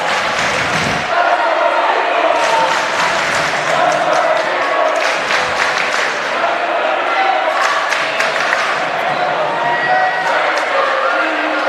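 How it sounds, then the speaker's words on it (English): A crowd at a high school basketball game (Brother Martin at Shaw) cheers and shouts continuously and loudly, with a ball bouncing and scattered applause in the din. "They're energetic, cheering their team on."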